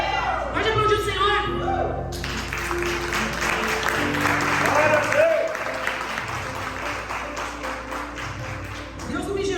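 A church congregation breaks into sustained applause, a dense wash of many hands clapping in a large room that continues steadily while a preacher's voice carries over it.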